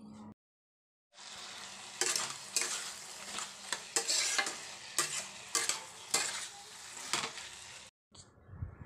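A spoon stirs and scrapes vegetable curry with mixed spice in a pan, steady sizzling broken by repeated clattering scrapes against the metal, close and fairly loud, with a short silent gap near the start and near the end.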